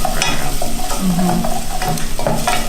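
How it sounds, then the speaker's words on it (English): Chopped green garlic with a little salt sizzling in a pan for a turmeric curry, a loud close steady fry with repeated scrapes and knocks of a spoon stirring. "So just cook that, being really careful not to overcook the garlic."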